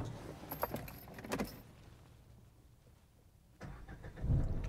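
A modified Land Rover Defender starts up after a short hesitation: quiet rattles and clicks first, then a calm pause before the engine catches and rises into a low, close rumble at the end.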